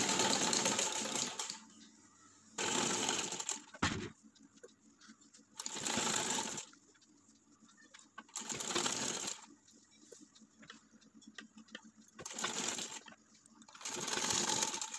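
A sewing machine stitches a kids' summer top in repeated bursts of a few seconds each, separated by quiet pauses, and sounds close and clear with no talking.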